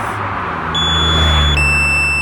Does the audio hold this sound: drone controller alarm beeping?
yes